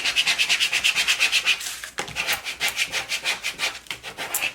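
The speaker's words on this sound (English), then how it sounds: "give this a really good rub as well" Cut vinyl lettering for a wood project being rubbed down firmly with a tool, a rapid rhythmic scratchy rasping of quick back-and-forth strokes, close and continuous with one brief pause midway.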